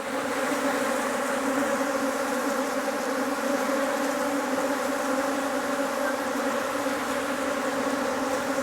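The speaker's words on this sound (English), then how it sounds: "we're just going to have to put up with the swarm" A honeybee swarm from a top bar hive drones in a dense, continuous buzz, loud and steady throughout with no voices.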